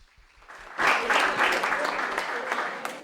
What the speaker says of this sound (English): Round of applause for all of you for coming out.